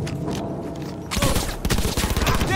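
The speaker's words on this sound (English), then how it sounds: "Opening fire." Gunfire in Cyberpunk 2077 erupts after a quieter stretch into a dense, loud burst of rapid shots that carries on to the end.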